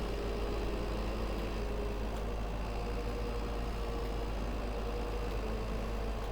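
A tractor engine mows along a hedge line, a steady, faint, low rumbling drone with a continuous chugging texture and no voices.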